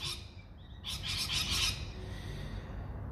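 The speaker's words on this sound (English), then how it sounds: "They are noisy birds." Noisy birds chirp outside in a rapid burst of bright, high tweets over a steady low hum of room noise, fairly close and moderately loud.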